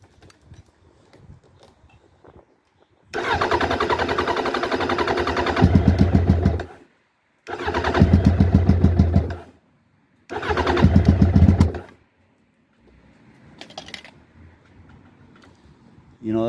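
A Suzuki Bandit 1200 SK4 motorcycle engine cranks in three loud, close bursts of rapid starter churning separated by pauses, never catching, with faint clicks and quiet sounds between.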